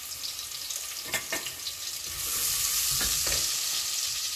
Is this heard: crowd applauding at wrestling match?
no